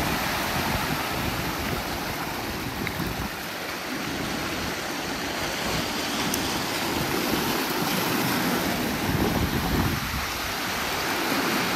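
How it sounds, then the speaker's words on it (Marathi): Sea waves swell and wash around a small fishing boat off the coast at Shrivardhan, a continuous rushing surge of water and wind that rises and falls throughout. "उचलत्या लाटा आहेत."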